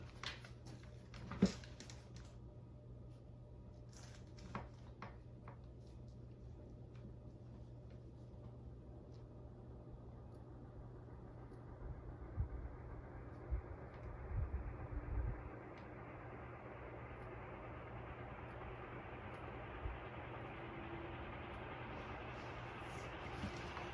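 An Airmaster Mark I 56-inch industrial ceiling fan motor spins up from stop to high speed, a steady low hum and rising broadband whoosh of air building gradually over time, with a few faint clicks early on.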